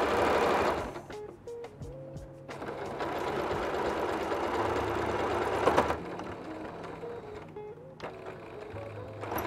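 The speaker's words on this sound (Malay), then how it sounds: "Jahit lurus macam biasa. Ini step last untuk bahagian body bag." Sewing machine stitching a batik tote bag, its motor whirring in close bursts with brief pauses and speed changes between runs of stitching, no talking.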